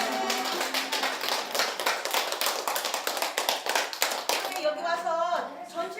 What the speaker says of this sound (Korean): 요양원 사람들이 박수를 치며 반갑게 맞아줍니다.